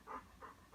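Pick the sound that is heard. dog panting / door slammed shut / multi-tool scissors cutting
dog panting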